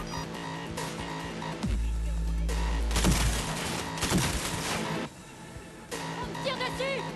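Bursts of gunfire in the video game Cyberpunk 2077 on Xbox Series X, loud rattling volleys with a heavy low rumble mixed with game sounds and effects; no talk in between.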